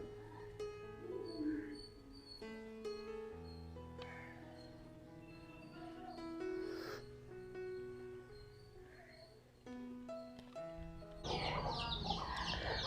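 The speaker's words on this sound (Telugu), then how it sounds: "మా కోడి పిల్లలు చూడండి" Backyard chickens and their chicks cluck and peep almost continuously, mixed clucks and chirps at close range, with a louder burst of calls near the end.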